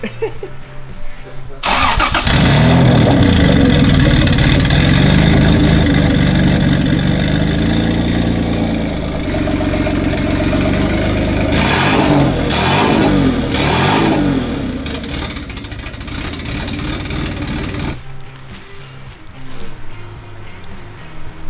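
A turbocharged Isuzu engine starts and rumbles loudly at idle with a deep, throaty tone, revving a few times before cutting off, leaving quieter background sound.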